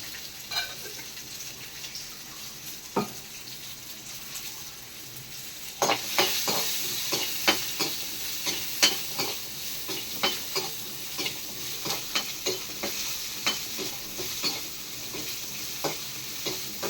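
Soya kurma ingredients sautéing in a pan with peppercorns, a steady close sizzle broken by frequent sharp scraping and stirring knocks from a spatula, busier and louder in the second half, with no talking.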